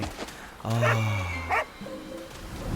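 A small puppy gives a few short yips and bow-wow barks close by, with voices talking around it.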